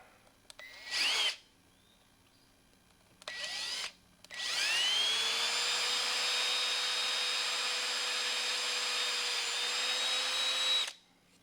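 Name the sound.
tool melting a hole through a plastic grow bed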